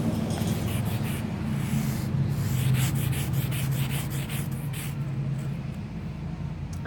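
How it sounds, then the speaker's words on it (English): Steady scrubbing on the dirt-caked top of a toy dinosaur excavation egg, a continuous close-up rubbing and brushing texture with no talk. "Now I'm just scrubbing the top."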